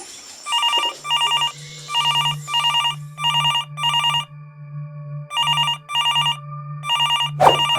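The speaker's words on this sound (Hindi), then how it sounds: "तभी फोन की घंटी बजती है।" A telephone rings in repeated electronic trilling bursts with a steady low hum beneath, ending with a brief click.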